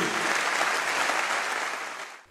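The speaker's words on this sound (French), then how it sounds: "Tiens, on les applaudit." A French audience breaks into steady, dense applause after thanks at a rugby-themed event, many hands clapping together at close range for about two seconds before fading out.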